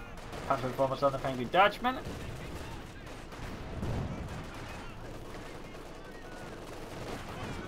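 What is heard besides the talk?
field gun firing in video game Company of Heroes 2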